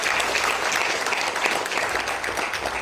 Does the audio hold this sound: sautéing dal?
no